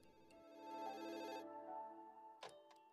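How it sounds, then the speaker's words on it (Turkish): A telephone rings in an office: an electronic ringing tone with a steady warble that holds for a moment, breaks off, and is followed by a couple of short clicks, heard clearly and alone. "Derken telefon çaldı."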